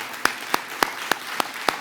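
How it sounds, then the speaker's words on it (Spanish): A church congregation at a Spanish-language service claps in unison, six crisp, evenly spaced claps in a steady rhythm. "Le damos un aplauso a nuestro Señor."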